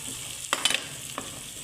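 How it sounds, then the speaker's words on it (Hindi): Onions being stirred into a hot frying pan for a potato curry, a steady soft sizzle under a few scraping spoon strokes, clearest near the middle, with no talking. "अब हम इसके अंदर प्याज ऐड करते हैं। अच्छे से मिक्स करेंगे।"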